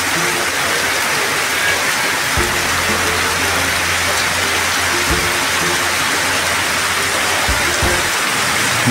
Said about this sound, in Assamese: বৰষুণ তামাম দি আছে চাওক